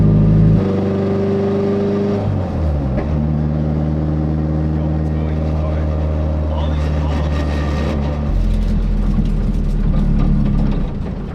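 Loud, steady engine drone from a Nissan S14 with an upgraded turbo doing a pull, a pitch shift partway through, then a rising rumble near the end as the car pulls harder.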